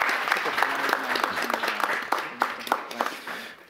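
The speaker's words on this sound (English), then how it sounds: "Let's all give them a round of applause," Audience applause for a panel of alumni speakers at a humanities and liberal arts event, steady dense clapping from a room of people with a few sharper individual claps standing out, fading slightly at the end.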